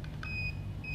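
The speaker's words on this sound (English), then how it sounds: "put the stick into the little hole until it beeps and it flashes a red light" An electronic timing stick at a coastal trekking event checkpoint gives short bright beeps, two quick chirps and then steady tones, heard close over a low continuous hum in an indoor room.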